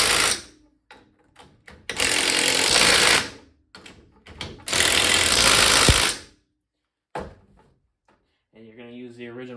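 A power tool snugs down 17 mm leveling kit bolts on a 2019 Ford F-150, two loud rattling bursts of a few seconds each, separated by clinks and handling noises, with a short tone at the end.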